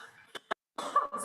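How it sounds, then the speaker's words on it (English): A man coughs twice in short, close bursts, then there is a brief pause and a muffled, breathy stretch that sounds like throat clearing or a stifled laugh. "I'm gonna cough."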